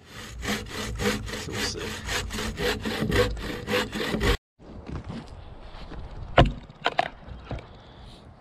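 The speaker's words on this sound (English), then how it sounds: "you make obviously much smaller cuts with a bow saw than I would with a chainsaw" Steady back-and-forth rasp of a bow saw cutting through a log for a log cabin, close and continuous, then stopping; a few scattered knocks and a brief word follow.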